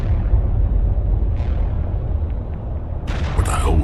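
An explosion in the video game Mass Effect, set off near unstable ruins by a mining laser: a deep, sustained rumbling boom followed by sharp crackling bursts near the end, loud and alone.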